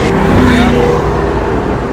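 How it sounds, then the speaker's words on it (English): Deep engine drone of a McLaren 720S V8 twin-turbo supercar, steady and fairly loud from inside the car, with a brief rising tone early on and no talk. "This is a V8 twin-turbo and yet... Can you get the windows down?"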